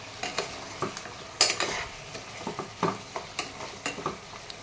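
Chili powder is stirred into coconut rice frying in a pan: a soft background sizzle under a series of distinct spoon scrapes and stirring strokes, fairly close and moderately quiet.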